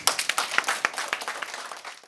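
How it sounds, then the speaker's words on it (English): Audience clapping at a community event: a brief burst of scattered, moderately close hand claps with uneven rhythm, fading quickly. "Can we give a big clap for them?"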